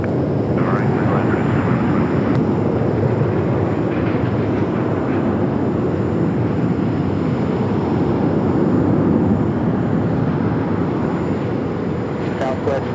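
A regional jet landing at Phoenix Sky Harbor produces a continuous, broad engine roar that stays loud and steady throughout, with faint radio chatter and voices mixed in.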